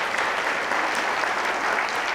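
Audience at a Broadway show clapping together, a dense continuous burst of applause filling the room, steady and fairly loud without letting up.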